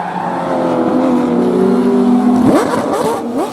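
A GT race car on cold tires revs loudly and then slides off the track, its engine note dropping and wavering as the car loses grip, close and dominant with no voices.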